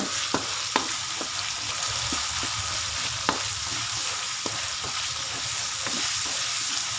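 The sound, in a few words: frying pork with crushed pepper and soy sauce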